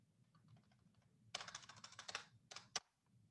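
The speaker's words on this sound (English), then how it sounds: "on the loudest keyboard in the planet, which I love" Rapid clacking keystrokes on a very loud computer keyboard, a quiet stretch of light taps giving way to a dense burst of typing and a few final sharp strikes, close and alone.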